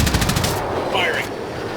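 Automatic gunfire in the video game Ghost Recon Wildlands, a rapid burst of close, loud shots for about half a second followed by a fading echo and a short high whine.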